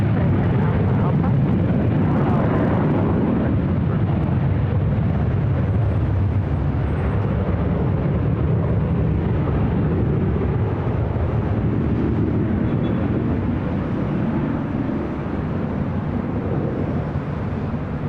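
A jet airliner roars steadily during takeoff from runway 24 left at LAX, a loud, sustained rumble that continues unchanged throughout, with voices talking over it.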